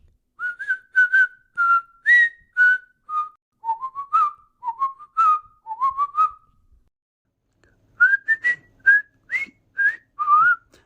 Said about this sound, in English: I need to stop whistling like that.